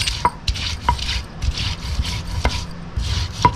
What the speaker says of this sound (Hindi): थोड़ा सा इसको देखिए पीस लेते हैं हल्का